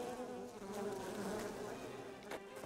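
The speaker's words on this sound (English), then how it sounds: "Oh good, I hear bees." Bees buzzing steadily in the video game Unexplored, a continuous droning hum that stays fairly loud and close throughout, with no voices over it.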